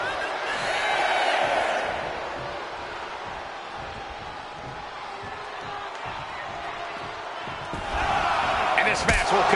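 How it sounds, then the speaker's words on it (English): Wrestling arena crowd in WWE 2K25 during a Jacob Fatu versus Randy Orton match, a broad roar of cheering that swells at the start and again near the end, with a commentator talking over it. "Jacob Fatu feeding off the crowd, feeding off their energy."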